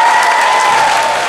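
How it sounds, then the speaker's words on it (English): Dense crowd applause at a political rally for Senator Elizabeth Warren in Massachusetts, a steady wash of many hands clapping, loud and close, over a faint sustained tone. "So have an applause for everyone who's out here."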